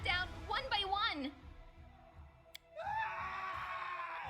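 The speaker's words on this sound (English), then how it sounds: "a scream echoes from the hallway." A scream echoes down a hallway in Pathfinder: Kingmaker, a short wavering cry that falls away into quiet before a broad, steady rush of game ambience rises.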